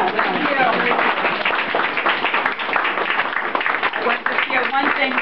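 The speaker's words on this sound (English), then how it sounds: "Give him a big round of applause." A crowd applauds an engineer at a ribbon-cutting Q&A event, dense steady clapping mixed with cheering voices that holds at full strength throughout.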